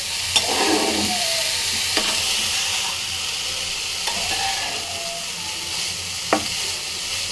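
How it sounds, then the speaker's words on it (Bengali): Grated coconut mixed with jaggery and sugar fries in a wok with a steady, close sizzling hiss. A spatula occasionally clicks and scrapes against the metal as the mixture is stirred. "এভাবে কিছুক্ষণ নারিকেলটাকে ভেজে নেব।"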